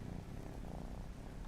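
Kitten purring in the video game Vintage Story: a soft, low, continuous rumbling purr with a steady pulsing rhythm, faint and close, with no other sounds.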